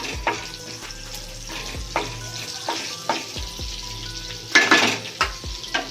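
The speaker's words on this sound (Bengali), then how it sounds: "এটা আমি ঢেলে দেবো এর মধ্যে। লঙ্কাটা একটু ভাজা হোক।" Kashmiri chili powder frying in hot oil in a pan, with a continuous sizzle and repeated stirring scrapes plus a few louder clinks of a utensil against the pan.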